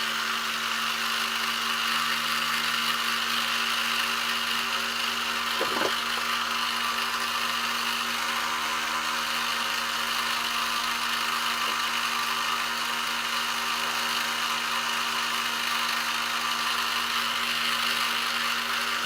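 An AR-100 electric motor running with its coil short-circuited, at about 4700 RPM, gives a steady, loud, continuous high whine with a constant hum beneath, close and unchanging.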